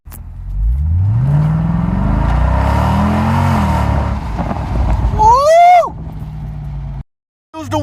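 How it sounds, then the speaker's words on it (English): A Mercedes CL63 AMG accelerates hard, its engine note rising and sweeping loudly with strong wind rush at speed, ending in a brief cut to near silence before the roar resumes. "The wind noise, raw speed"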